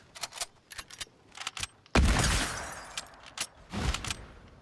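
Fortnite gunfire: a few short spaced shots early, then a loud sustained burst of rapid fire partway through that tails off, with further scattered shots and another loud volley near the end.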